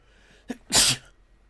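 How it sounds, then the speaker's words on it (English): A single close, forceful sneeze, preceded by a short sharp intake of breath, then quiet. "I'm going to sneeze."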